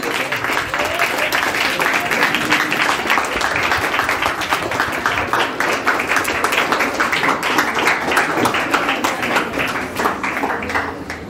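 Sustained applause from a school farewell audience for a Class X batch, dense steady clapping filling the whole stretch with a voice or two faintly mixed in.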